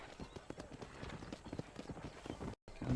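A horse in Red Dead Redemption gallops closer with rapid, rhythmic hoof clip-clops on the ground, a brief cut of silence, then a soft snort near the end.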